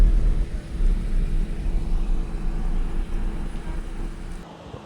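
A car idling and rumbling to a halt on a roadside in Taiwan, a loud, close engine drone that steadily fades out near the end.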